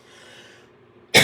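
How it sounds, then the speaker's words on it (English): A single short, sharp cough bursts out loud at the very end, following a stretch of quiet room tone. "I need to go because I'm going to cough again"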